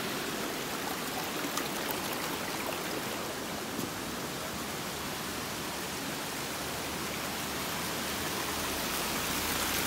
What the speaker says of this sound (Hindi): ये सामने चश्मा फूट के आ रहा है ये